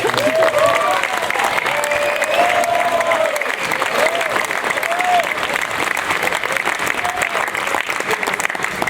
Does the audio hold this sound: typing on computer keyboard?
no